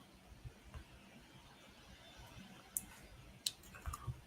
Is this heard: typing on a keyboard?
yes